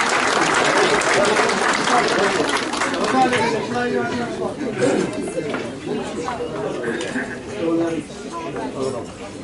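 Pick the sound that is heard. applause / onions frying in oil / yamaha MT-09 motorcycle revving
applause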